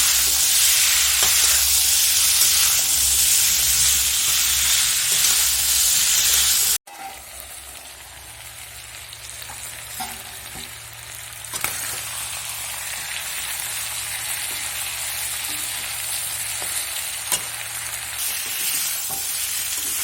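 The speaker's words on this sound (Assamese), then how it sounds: "আলুখিনি দি দিম। ভালদৰে লৰাই মই ঢাকি ৰাখিম।" Potatoes being stirred into a sizzling local chicken curry in a pan, a loud frying hiss that cuts off abruptly, then quieter simmering with occasional faint scrapes and clinks, close and without talk.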